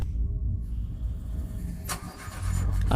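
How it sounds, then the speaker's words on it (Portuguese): An almost new car fails to start, a low, uneven engine churn with a brief sharp burst midway before the rough rumble returns, close and moderately loud. "Aquela droga de carro não queria pegar, mesmo sendo quase novo."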